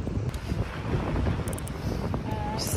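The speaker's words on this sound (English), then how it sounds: "You probably can't even hear me because of the wind." Wind buffets the microphone outdoors in a steady, heavy roar throughout, rumbling low and loud with no clear voice above it.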